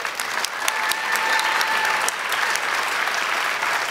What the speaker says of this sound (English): now we want to give them a really big cheer here at home